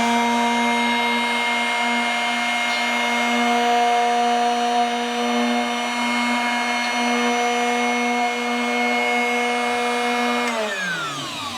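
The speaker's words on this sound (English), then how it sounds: "I'm going to turn the machine on and then I'm going to sharpen the drill bit." A Drill Doctor drill bit sharpener runs with a steady high-pitched whine and grinding hum for several seconds while sharpening a drill bit, then spins down at the end.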